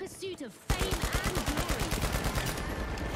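Rapid automatic gunfire from The Finals video game rattles out in a fast, even stream of loud shots, cut in abruptly after a brief voice.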